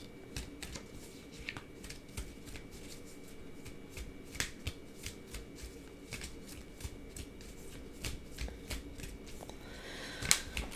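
Tarot cards being shuffled by hand, a steady run of crisp riffling flicks and soft slaps, close and fairly quiet, ending in a louder shuffle burst, with no talking.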